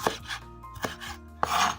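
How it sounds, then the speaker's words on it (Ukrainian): Knife chopping fresh parsley on a cutting board, a few soft uneven cuts with quiet scraping, close by. "Зелень петрушки теж нарізаю отак."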